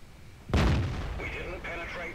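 A Centurion tank's main cannon fires in a video game, one sudden heavy boom that rolls off into a long rumbling tail, with a voice talking over the end.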